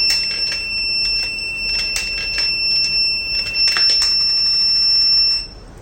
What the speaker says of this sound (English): Now the buzzer will get switched on.